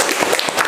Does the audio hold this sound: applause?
yes